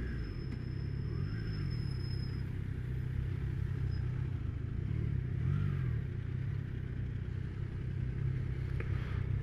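Triumph Tiger Sport 660 motorcycle, its engine idling or running steadily with a low rumbling throb and faint rises in pitch, close and continuous without any talk.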